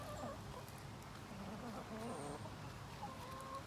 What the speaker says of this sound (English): So we have some chickens